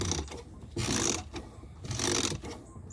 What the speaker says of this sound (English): the fluid pump in our existing fuel tank